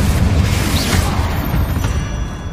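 Confringo blasting spell in Hogwarts Legacy set against a dense, continuous rumbling roar of battle noise, with a faint whooshing swish partway through and no clear single bang standing out.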